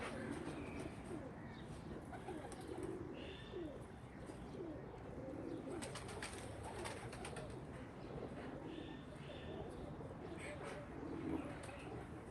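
Misri jaldar breeder pigeons coo repeatedly in soft, rolling phrases, with faint voices and outdoor murmur in the background.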